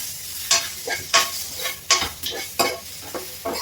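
Tomato and pepper stirred and fried in a pan for prawns roast: repeated scraping strokes of a spoon against the pan, roughly every half second, over a steady close sizzle, with no talking.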